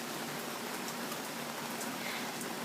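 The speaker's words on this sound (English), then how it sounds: "it's raining, and I love it so much" Early-morning rain falling outdoors, a dense, even hiss of drops on surfaces, steady and close with no voices.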